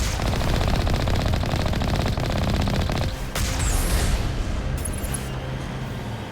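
Hit-scan weapons fire in Mass Effect, a loud, sustained stream of rapid gunshots that rattles on for several seconds with no pause before easing slightly toward the end.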